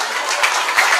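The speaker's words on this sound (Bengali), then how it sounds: "হাততালি হাততালি।" Audience at a comedy stage show clapping, a short dense burst of applause, loud and close, with no voices over it.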